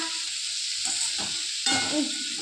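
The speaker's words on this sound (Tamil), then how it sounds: "நல்லா கிண்டி விட்டுக்கலாம்" Tomatoes sizzle in a hot pan as they are stirred, giving a steady close frying hiss with a few scraping touches and no talk.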